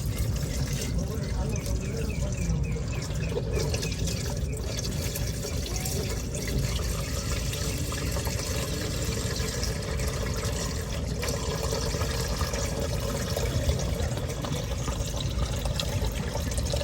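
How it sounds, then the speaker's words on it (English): Dirty engine oil draining from a 2022 Ram 1500 V6 eTorque during an oil change, a steady, dense pouring and splashing rush that runs unbroken and close throughout, with no break in the flow. "it's getting drained. The oil needs to be changed"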